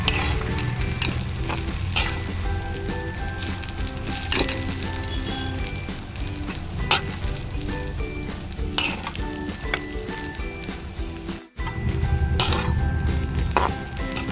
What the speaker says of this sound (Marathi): मंद आचेवर 2 मिनिटं परतवून घेऊयात।